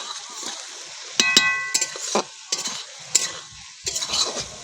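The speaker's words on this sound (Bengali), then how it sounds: "ভেজে রাখা আলুটা দিয়ে আরও 2 থেকে 3 মিনিট আমরা ভালো করে কষে নেব।" Fried potatoes stirred into a sizzling spice mix in a pan for a Bengali shankar fish kalia, with scattered loud spatula scrapes and clinks over a steady close frying hiss.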